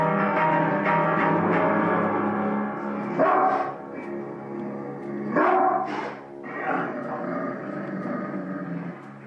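A dog barks in loud, repeated bursts close by, with several sharp yelps and harsher growl-like calls spread through the stretch and no voices over it.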